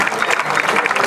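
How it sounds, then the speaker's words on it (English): A festival crowd at the 2012 Julia Creek Dirt N' Dust Triathlon applauds the winner: a brief, dense burst of clapping, loud and close, with a hint of voices mixed in. "Give him a big round of applause."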